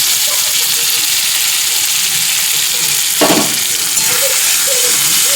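Chopped tomatoes fry in a pan for a spicy egg curry, giving a steady close sizzle and hiss with a brief stirring scrape partway through. A faint voice talks under the frying.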